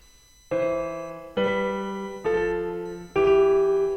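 Four sustained piano chords struck at an even, slow pace, each ringing out before the next, with no talking.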